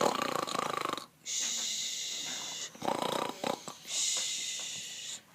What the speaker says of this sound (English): they heard snoring coming from a hole in a log